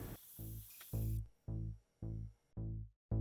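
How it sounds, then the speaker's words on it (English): Spray bursts of Vallejo leather brown paint coating the floor of a Moebius 1/35 scale Jupiter 2 model: about five short, close hisses in a steady start-stop rhythm, each over a low hum, with brief silent gaps between. "spray it with this Vallejo leather brown"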